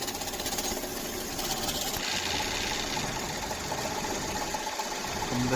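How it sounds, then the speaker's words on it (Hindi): A Hyundai i10 Grand's AC compressor runs noisily with a steady, dense, rapid mechanical chatter and whir, close and constant without talk. "ये i10 ग्रांड, इसका कंप्रेसर साउंड कर रहा है।"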